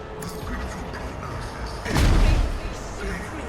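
A plasma weapon fires in the Warhammer 40K game Rogue Trader: a single heavy, booming blast swells midway and fades over a low rumble of background noise.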